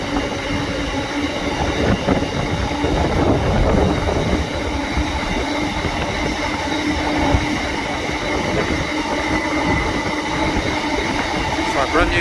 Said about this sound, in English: Brand new wagons on there.